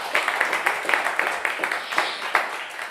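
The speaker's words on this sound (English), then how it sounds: "How about one more round of applause for Rory DeLaslo" An audience applauds at a live bluegrass radio show, giving dense, sustained clapping with scattered louder claps that stays fairly even throughout.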